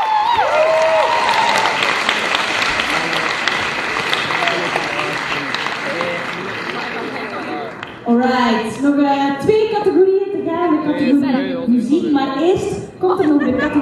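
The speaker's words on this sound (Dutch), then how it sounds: "Applaus." A crowd at the Kunstbende award ceremony claps loudly for about eight seconds before the applause drops away and a person starts speaking.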